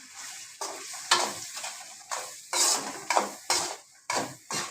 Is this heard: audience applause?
no